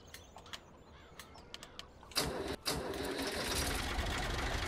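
An old Universal tractor engine in Farming Simulator 2017 sputters with sparse uneven pops, then catches into a loud, steady mechanical run after a brief stumble.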